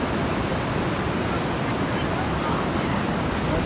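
Ocean surf and strong wind roar continuously on Cannon Beach in Oregon, a dense broadband wash buffeting the microphone with no clear breaks.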